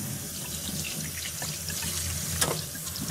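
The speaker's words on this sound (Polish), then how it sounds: "Dobra, spłucz wodą." Water from a tap runs steadily as a quad's dirty air filter is rinsed out, a close, continuous splashing flow with a brief louder gush near the end.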